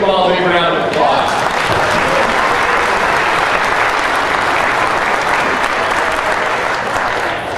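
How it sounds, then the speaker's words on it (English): A large audience at an auto expo applauds loudly and steadily for several seconds, with a voice heard at the start before the clapping takes over. "Let's give them all a big round of applause."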